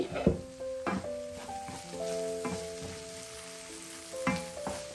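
Curry ingredients fry softly in a pan with a faint sizzle and occasional stirring scrapes, while several sustained musical tones ring over the cooking.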